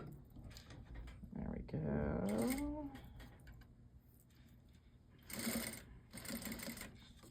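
Sewing machine basting bias tape onto a pocket flap, running in short bursts of rapid stitching between pauses, close and fairly soft, with a person speaking over it.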